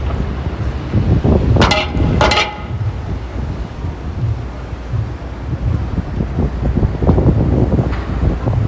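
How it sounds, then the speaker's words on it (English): Steady gusty wind on a New York City street buffets the microphone throughout, with a low rumbling roar and a couple of brief high-pitched squeaks partway through. "It's a bit windy, but it's lovely weather in New York City."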